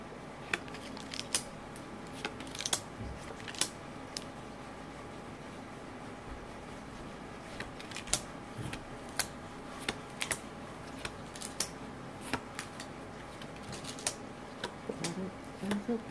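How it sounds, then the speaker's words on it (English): Playing cards are laid out on a table for a card game, giving sharp, scattered clicks and light snaps at irregular intervals over a quiet room background. "Now, I'm laying out the cards."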